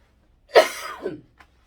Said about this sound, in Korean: 아우 기침이 너무 나네